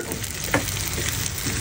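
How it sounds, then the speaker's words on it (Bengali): Potato pieces frying in oil give a dense continuous sizzle with a brief clink of stirring partway through, close and steady. "তেলের মধ্যে আলুগুলো একটু ফ্রাই করে নিচ্ছি।"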